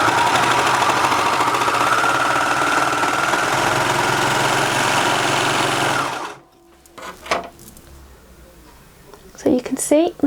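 A Baby Lock Imagine serger stitches sweatshirt fabric with a loud, steady mechanical whir for about six seconds, then stops abruptly, leaving faint handling clicks and a brief burst of sound near the end.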